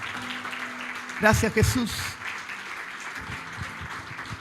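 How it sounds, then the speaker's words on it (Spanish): A church congregation applauding at a service, a short burst of clapping under a voice speaking in Spanish, fading after a couple of seconds into room murmur. "¿Cuánto le dan un aplauso a Dios para comenzar?"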